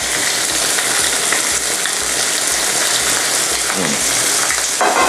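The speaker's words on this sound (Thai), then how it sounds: "น้ำมันก็ไม่ต้องเยอะมากครับเพราะตัวเขาเองเขามีน้ำมันในตัวอยู่แล้วนะเรามา ย่างให้หอมขึ้นมานิดนึง" Meat grills in a little oil in a hot pan with a loud, continuous sizzle and crackle that persists throughout, with occasional stirring or scraping and no talk.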